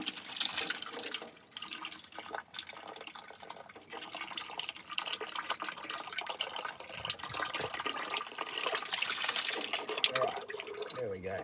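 Water gushes steadily from a drained bung on an old 60-year-old Clark Michigan 55A loader, a continuous close splashing pour running unbroken for the whole stretch.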